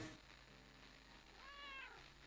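A cat meows in the indie video game Purrfect Ascent: a single soft, rising mew heard faintly over a low, steady game background.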